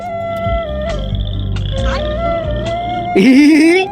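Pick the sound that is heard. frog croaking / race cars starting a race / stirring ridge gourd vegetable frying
frog croaking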